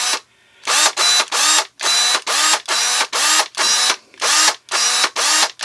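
A Dewalt battery pruning shear with an old brushed motor cycles with no load, its motor whirring in about a dozen loud, even, close bursts separated by short silent gaps.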